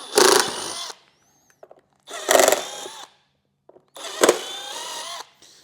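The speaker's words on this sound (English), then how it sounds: "we're going to drill the 4 holes that our original 5x7 was screwed in with" A power drill bores holes for a speaker mount on a 2017 Harley-Davidson CVO Street Glide, three separate loud, close bursts of about a second each with quiet gaps and small clicks between.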